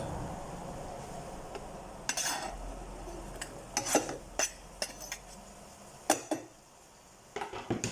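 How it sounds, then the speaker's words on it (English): Onions go into a pan with juices left from browning stewing beef for a New Zealand steak pie. Close metallic clanks and scrapes of a utensil against the pan come in irregular bursts with quiet gaps between them. "So that's now our onions in, and we're going to brown them off in that nice lovely juice from the steak"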